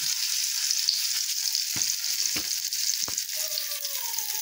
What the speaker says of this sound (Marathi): आता हा कांदा आहे तो घालायचा।